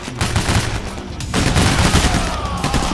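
Heavy automatic gunfire from the heist shooter Payday, a dense, loud fusillade of rapid shots with a brief lull before the barrage resumes and continues to the end.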